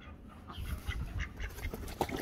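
Ducks quack near a clean pool on a poultry farm, a few soft, scattered calls at a moderate distance over a quiet outdoor background.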